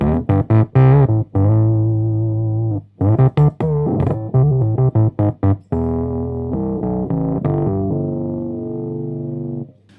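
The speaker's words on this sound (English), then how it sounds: "you will get more like the sound from the pedal alone" Electric guitar heard only through the wet signal of a BOSS Super Octaver OC-3 analog octave pedal, with a buzzy synthetic tone and glitchy artifacts on sustained notes, loud and upfront.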